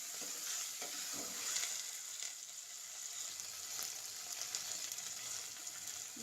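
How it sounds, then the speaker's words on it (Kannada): Chopped tomatoes fry in oil with onions in a pan for a potato palya. A steady, close hiss of sizzling is heard with a few faint stirring scrapes and no talking. "ಟೊಮೊಟೊನೂ ಕೂಡ ಸ್ವಲ್ಪ ಚೆನ್ನಾಗಿ ಫ್ರೈ ಆಗಲಿ"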